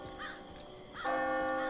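Crows cawing in the Far Cry 5 video game, a few harsh calls at moderate distance over a steady ambient drone that swells louder partway through.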